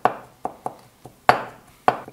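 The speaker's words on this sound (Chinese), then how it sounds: "稍微跟它剁一剁" A knife chops fermented black beans on a board for Cantonese steamed spare ribs, making about six sharp, close, irregularly spaced knocks with quiet gaps between them.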